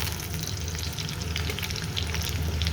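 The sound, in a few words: sautéing beef paya with onions in a pot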